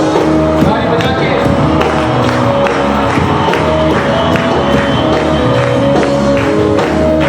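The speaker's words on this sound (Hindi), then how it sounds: "ताली बजा के" A worship congregation clapping hands, steady rhythmic applause-like claps from a crowd blended with music and voices, loud and continuous throughout.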